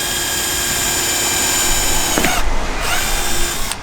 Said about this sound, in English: I'm just going to drill through into the bumper.